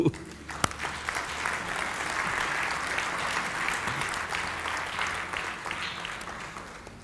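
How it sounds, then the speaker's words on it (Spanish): Church congregation applauding together at a worship service, a steady dense wash of clapping that fills the space and stays loud throughout, with a few voices mixed in. "Dale un aplauso a Cristo."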